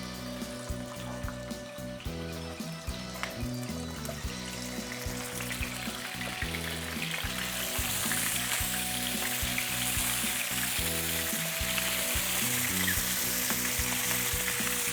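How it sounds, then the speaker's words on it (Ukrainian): Stuffed pork necks sizzle and crackle steadily in a hot pan, the frying growing a bit louder and hissier over time, close up and without speech. "будемо смажити на пательні. Сковорода розігрілась, можна потихеньку викладати."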